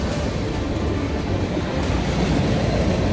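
A train passes close by, producing a loud, continuous rumbling roar that holds steady throughout, with no voices over it.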